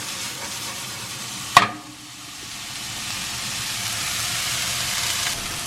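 Vegetables and Italian sausage meat sauteing in a pan for an elk pasta dish, a steady close sizzle after a sharp clank of a utensil, with no talk.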